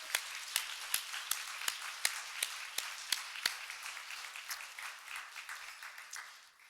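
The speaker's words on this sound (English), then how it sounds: "So if I could ask for a short round of applause for our sponsors here today." An audience at a medical research breakfast gives a short round of applause for the sponsors, a brief burst of clapping with sharp individual claps at first that thins and fades out over several seconds.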